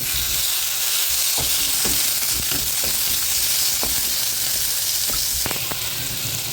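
Tomatoes land in a pan of urad dal and curry leaves frying in oil for a mustard-urad chutney, setting off a loud, constant hissing sizzle with scattered light taps and stirring clicks, close by and without talk.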